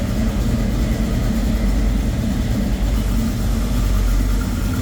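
A 1967 Chevrolet C10 pickup with a 383 stroker V8 idles through 2.5-inch Flowmaster dual exhaust, a steady deep rumble with constant low throb, close and unbroken.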